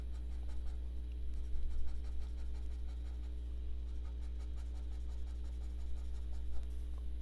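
A pencil draws lines on paper during an art lesson for a hawksbill turtle picture, giving soft, close scratchy strokes in irregular bursts over a steady low hum, with no talking.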